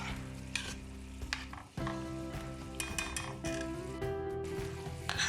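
Bulgur for lentil patties (mercimekli köfte) is stirred in a pot with a spoon, giving soft scraping and light clinks over a low background hum, close and quiet.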